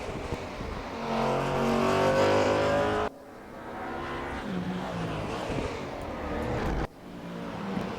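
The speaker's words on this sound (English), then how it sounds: "Here's Constable over the corkscrew." A race car charges over the corkscrew at Laguna Seca during a staff championship race, its engine roaring loud and close for about three seconds before cutting away to more engine noise from other cars, with no talk.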